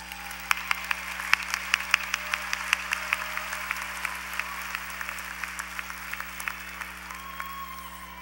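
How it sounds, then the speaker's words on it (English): An audience at a university commencement applauds law graduates with steady, sustained clapping from many hands. The applause sounds somewhat distant and moderate, over a low constant hum from the hall's sound system. "Let's applaud our law graduates."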